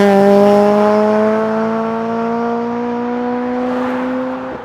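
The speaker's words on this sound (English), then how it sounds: "So let's get a second into third gear flyby now." A mapped Honda Civic Type R EP3 fitted with a Solid Fab 3-inch exhaust passes by in a second-to-third gear run: loud, steady engine drone with strong harmonics, holding pitch then dipping at the shift near the end.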